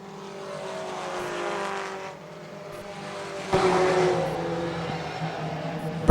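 4 Cylinder Pro race cars circle a track in the closing laps, with engines droning and rising as they pass. A sharper surge of engine noise comes midway, and a commentator's voice runs underneath.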